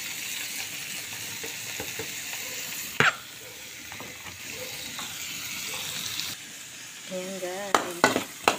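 Garlic, onion and green chili sauté in a pan for tofu sisig, a continuous close sizzle with stirring scrapes and a few utensil knocks; a voice speaks briefly over the cooking.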